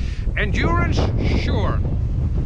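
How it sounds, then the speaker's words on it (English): Wind blows outdoors across the microphone at a flying field, a loud continuous low rumble and buffeting that masks a man's brief speech. "It has become more windy, by the way."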